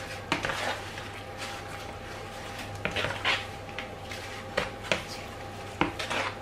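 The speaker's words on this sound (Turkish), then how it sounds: "Ve arada şöyle bir karıştırıyoruz." Börek filling being mixed in a bowl, scattered clinks and scrapes of a utensil against the bowl over a low steady hum, close and fairly quiet with no talk.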